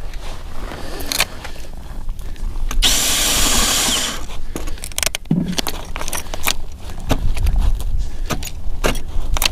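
A power drill runs in short bursts and rattles in the cold, with clatter and handling noise between runs, close and fairly loud, from ice fishing gear that may have a faulty switch.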